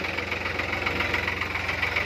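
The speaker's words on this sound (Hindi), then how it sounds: "स्टार्ट कर रहा हूँ ट्रैक्टर" New Holland 4x4 tractor with about 200 hours, its cold engine running at a steady idle with a knocking diesel clatter, close and continuous, no voices.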